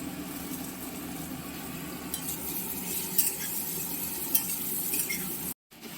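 Chopped garlic, ginger and onion fry in a pan for egg and eggplant bharta, a steady soft sizzle with occasional spatula scrapes and light clinks, cut off briefly near the end.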